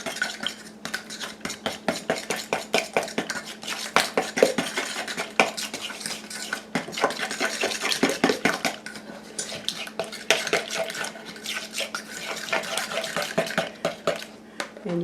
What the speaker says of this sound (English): And then we're just going to mix this up.